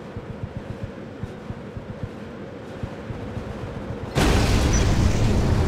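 Air raid explosions in the real-time strategy game Act of War, desert siege map, start as faint repeated thuds in the distance. Then a sudden loud, roaring blast sets in and sustains to the end.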